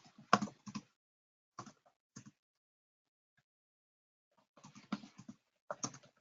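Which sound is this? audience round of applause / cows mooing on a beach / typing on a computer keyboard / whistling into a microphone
typing on a computer keyboard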